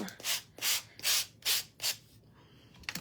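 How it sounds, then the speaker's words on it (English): Five rhythmic strokes of a Gator sander rasp along the edges of a wooden cutout, each pass a bright scratchy burst separated by short pauses, close and clear, followed by a brief quiet and one last faint rub. "I am going to sand"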